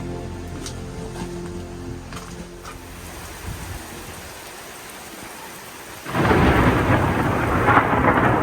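Rain and a thunderstorm are heard around Salzburg's fortress, with faint rumbles early on, then a sudden loud downpour of heavy rain hitting surfaces that continues to the end.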